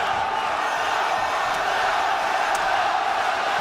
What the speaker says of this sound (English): The French crowd is awake.